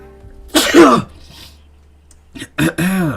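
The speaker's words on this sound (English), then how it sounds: "As soon as I finish sneezing." A loud, close sneeze followed by a couple of sharp nasal bursts and a vocal exhale, with nothing else around them.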